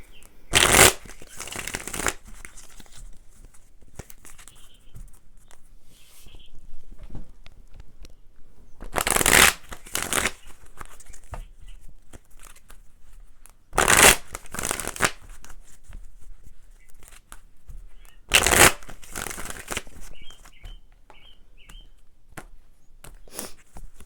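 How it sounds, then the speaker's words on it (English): Tarot cards being shuffled in several distinct bursts of riffling spaced several seconds apart, close and fairly loud, with quiet handling sounds in between. "But I want to pull some tarot cards to see what comes out."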